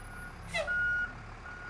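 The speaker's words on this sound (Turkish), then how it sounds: "Kamyon gibi bir şey geldi." In the video game Mirror, a truck's brief hiss is followed by a single electronic beep over a low rumbling engine idle.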